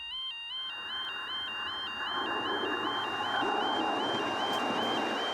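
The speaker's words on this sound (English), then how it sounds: "There's another train coming the other way, and it's not far away." A second train draws near on the other line at a level crossing while the crossing's repeating electronic warning tones sound, with a low rumble of the approaching train building gradually underneath.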